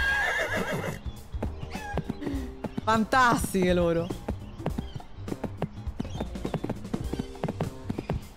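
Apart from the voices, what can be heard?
horse neighing and hooves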